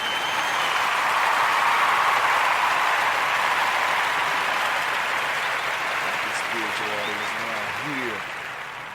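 Audience applause at a spiritual artists' gathering, steady broad clapping sustained for several seconds, fading near the end as a voice starts to speak over it.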